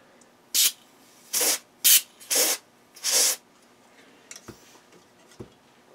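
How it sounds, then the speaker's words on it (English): Cold spray is fired at an out-of-circuit styrene capacitor during a Nikko NR-700 receiver repair, in five loud hissing bursts of about half a second each, followed by a few faint ticks. "I'm going to spray it with some cold"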